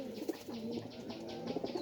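Pigeons kept in a crowded home loft cooing softly, repeated low throaty coos at a distance with no talk over them.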